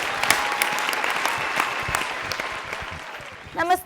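Loud, dense applause from a studio audience welcomes a singer onto the stage of a televised singing reality show. The clapping stays thick and continuous, then thins before a voice briefly speaks at the very end.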